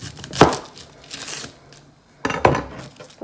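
A sharp knife slices the ends off an onion on a solid cutting board: two distinct, close chopping thuds about two seconds apart, with faint handling noise between them.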